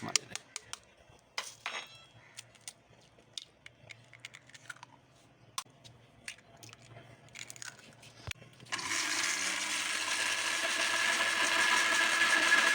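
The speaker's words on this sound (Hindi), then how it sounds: "हमने एक जूसर मशीन ले ली है। तो इसमें हम सारा मटेरियल तैयार करते हैं केक रस का।" A juicer machine mixing two eggs for cake rusk batter: sparse clicks and taps at first, then the motor kicks in with a loud, steady whirring hum that holds to the end.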